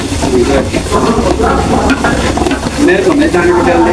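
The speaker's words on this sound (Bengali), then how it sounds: "নাড়ার সময় ডান পাশ দিয়ে নাড়বা" Food stirred in a pan gives a loud, continuous sizzle with scraping and stirring strokes running throughout, close and unbroken.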